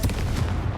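Confringo blasting spell fired in Hogwarts Legacy, a short loud burst with a booming, explosive low-end thump that rumbles briefly and fades.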